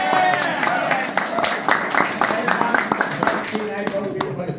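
An audience at a Florida House District 16 campaign kick-off claps briefly, a burst of scattered hand claps from a modest crowd that thins out over a few seconds.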